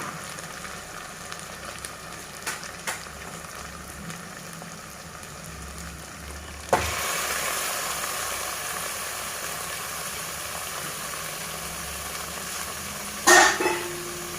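Mutton dropped into hot oil for Raagi Sangati mutton curry, a sudden loud sizzle that jumps up and then holds as a steady crackling hiss for several seconds, with a brief louder clatter near the end.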